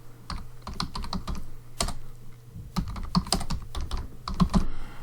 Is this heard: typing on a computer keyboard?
yes